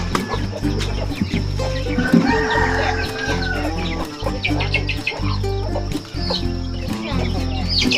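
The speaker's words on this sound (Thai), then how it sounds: "ให้เป็ดให้ไก่กินเนาะ" Farmyard chickens and ducks being fed cluck and squawk busily up close, with a rooster crowing among the repeated calls and a little faint human voice in the background.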